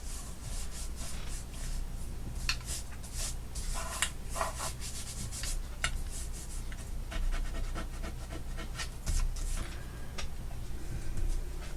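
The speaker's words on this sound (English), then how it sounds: "This is a glue eraser." A glue eraser rubbed across a crafting surface, producing soft, close scratchy rubbing strokes in irregular bursts over a low steady background hum, with no talk.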